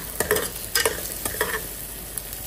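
Ingredients fry in a pan until brown, a steady close sizzle broken by quick rhythmic stirring scrapes, several strokes in a row, with no voices.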